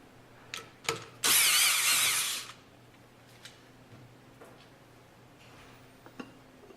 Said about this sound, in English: On top, remove two 5mm bolts from the crankcase access cover.